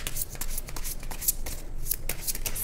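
Tarot cards being shuffled by hand in a steady, continuous riffling patter of soft papery slaps and brushes, close and moderately quiet, with no talking.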